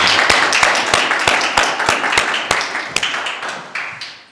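Enthusiastic clapping from a church congregation during Sunday worship, a dense run of hand claps with a few louder sharp ones, fading toward the end.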